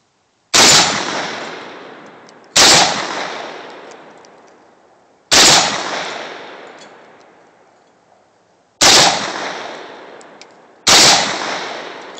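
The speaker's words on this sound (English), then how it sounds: "Some skeet with an AK-47." An AK-47 rifle fires five separate loud shots at skeet targets outdoors, each a sharp crack followed by a long fading echo, spaced a couple of seconds apart.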